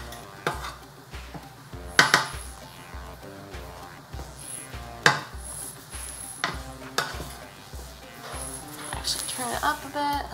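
Garlic being stirred in a pan, a spoon scraping and clinking against the metal in irregular strokes with some sharper knocks, a faint sizzle underneath and a person talking throughout.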